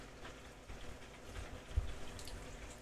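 A home fish tank's water bubbles softly and steadily, with a few small splashy bursts and no talking.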